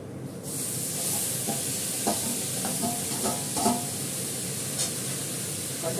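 Chopped bottle gourd sizzles and fries in a pan with browned lentils, a steady close hiss broken by a few soft stirring scrapes and clinks, with no voices.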